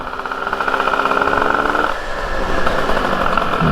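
A two-stroke engine runs continuously during a break-in test ride before going into a tricycle, giving a loud, close, buzzing drone with a brief dip partway through.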